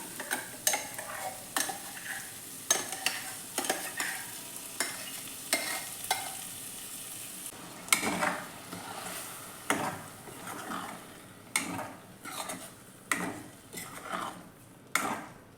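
Paneer mixed with freshly ground masala and cooked onion and tomato fries in a pan. A spoon stirs it with repeated scraping strokes and clinks against the metal over a soft, steady sizzle, and no one talks.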